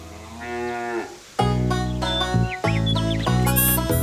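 A cartoon cow's moo, a drawn-out low call opening the moment, followed by bright music that plays on after it, with no talking over it.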